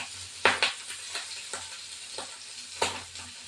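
Tengra fish fry in hot oil in a pan: a soft sizzling bed with several loud scraping stirs and clatters at irregular intervals, close by and without talk.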